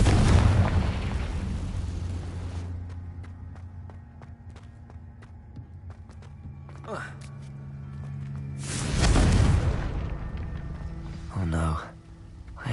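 Bombarda and Confringo spells blast in Hogwarts Legacy. One long rumbling explosion opens the clip and a second booms near the end, with a voice speaking briefly between them.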